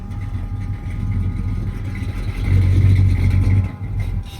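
A car reversing into a parking spot at a car show, its engine a low steady hum that swells briefly as it rolls back, then settles.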